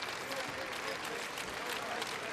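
Steady applause from a crowd at Target Center fills a high school basketball semi-final as seniors are recognized, a dense continuous clatter of clapping with a commentator talking over it.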